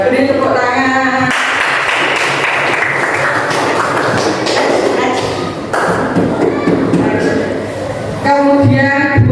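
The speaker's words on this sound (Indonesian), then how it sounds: "ya beri tepuk tangan." Children clap together in a classroom, a dense burst of applause filling most of the moment, with a teacher's voice speaking at the start and end.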